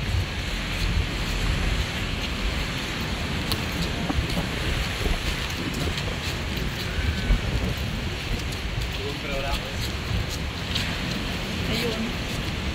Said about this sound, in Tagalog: Malamig tapos malakas at maalon.